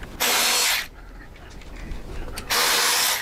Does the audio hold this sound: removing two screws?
yes